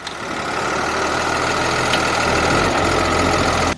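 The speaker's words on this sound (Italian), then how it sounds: "andiamo via col nostro Lamborghini 140, abbiamo attaccato un ripuntatore" A Lamborghini 140 tractor runs steadily while pulling a three-shank subsoiler across farmland being prepared for a vineyard, its loud, continuous diesel drone close and unbroken, with a low rumble and rattling vibration.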